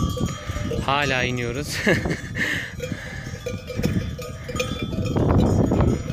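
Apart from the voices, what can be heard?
flock of sheep coming down a hillside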